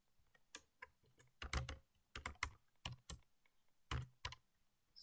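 Code being typed on a computer keyboard during a Python programming lesson, quiet close-up clusters of key clicks in irregular bursts with short pauses, no talking.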